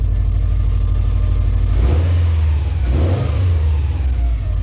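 A Subaru STI engine fitted with a Cobb SF intake idles steadily, then swells into two short revs, the second following about a second after the first, close by.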